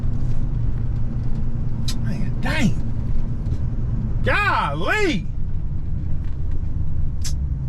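Road traffic with cars passing steadily, a continuous low engine rumble under someone speaking, with a few brief groaning and squealing tones.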